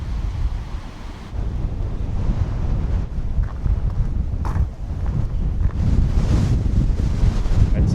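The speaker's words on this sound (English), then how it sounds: "And so it's getting very windy now out in the open." Strong wind buffets the microphone in open coastal hiking country in New Zealand, a constant heavy low roar with gusts swelling louder toward the end, with no voices.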